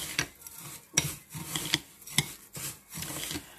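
Oil being worked into bath salt in a bowl gives scraping, gritty stirring strokes with clinks of utensil against the bowl, in uneven bursts close by and with no voices.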